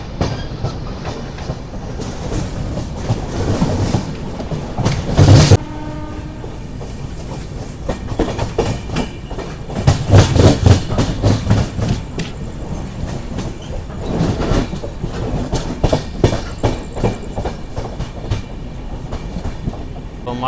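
The Charminar SF Express rolls along the rails near Gudur Junction, wheels clattering in a steady rhythm with a few louder jolts and bursts of rail noise, continuous and close, with no speech.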